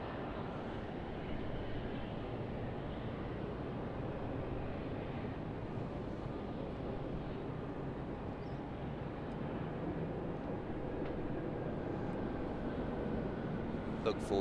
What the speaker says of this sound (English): Here's our American Boeing 777 arriving from Los Angeles.